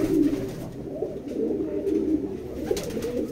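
A female Rampuri pigeon in a loft coos nearby, low throaty rolling calls repeating steadily over faint background noise.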